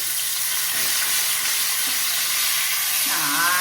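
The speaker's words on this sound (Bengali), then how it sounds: "দেখুন কত সুন্দর ভাজা হচ্ছে দেখুন এই মাছ ভাজা" Fish frying in oil in a home kitchen, a steady bright sizzle that stays even throughout, with a low murmur of other sounds beneath it and no talk.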